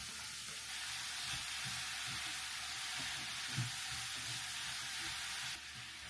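Mushrooms fry in a pan with a soft, steady sizzle, quiet and continuous, broken by a few light stirring knocks and scrapes, with no one speaking.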